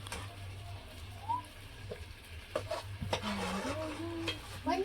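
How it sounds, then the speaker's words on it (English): Shrimp are scooped out of a cooking pot into a container, with soft utensil scrapes and light clinks over a quiet low kitchen hum and faint sizzling. "So I'm going to remove the shrimp from the pot and put it back in the same container we did it now."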